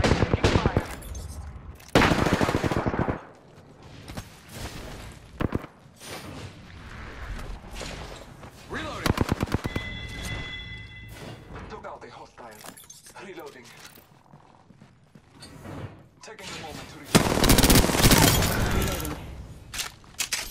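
Bursts of automatic gunfire in an Apex Legends battle royale match, loud broadband volleys near the start and again toward the end, with shorter shots and clinks between and voices talking throughout.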